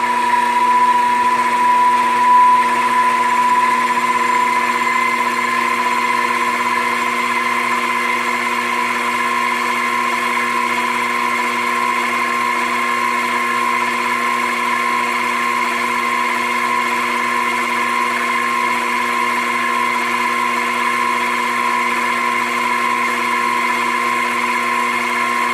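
A Grizzly mini lathe runs at about 2,000 RPM in reverse, giving a steady, continuous motor whine with a fixed tone and even hum, unbroken and alone for the whole stretch.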